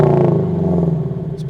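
A Scion FR-S boxer engine revs up close and loud, a droning exhaust note with a throbbing pulse that dips and sags over about a second and a half, with no talk.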